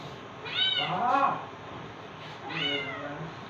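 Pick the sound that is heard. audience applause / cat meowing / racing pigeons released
cat meowing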